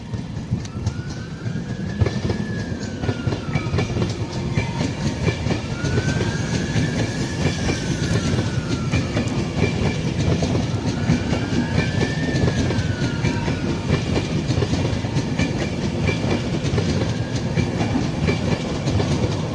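A train with Mark 4 coaches rumbles steadily past up close at Peterborough, coaches clattering over the rails for about twenty seconds, with a rising-and-falling whine repeating every five seconds or so.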